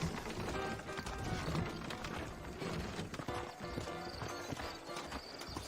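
Steady clip-clop of several horses' hooves trotting in Red Dead Redemption, with an occasional whinny, fairly close and continuous over a busy background.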